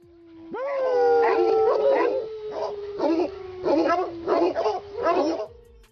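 Otterhounds, a large scent-hound breed once used for otter hunting, let out a long rising howl followed by a string of loud, close, bellowing barks and bays, with no talk over them.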